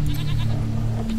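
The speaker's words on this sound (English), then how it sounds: "Oh, we got some goats." Goats bleating in the post-apocalyptic video game Wasteland 3, a steady layered bleat running through the whole short moment at close range over a constant low game hum, with no talking.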